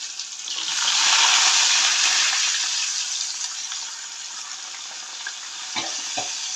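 Garlic and onion go into very hot oil with a loud burst of sizzling that settles into a steady frying hiss, with a couple of faint knocks near the end.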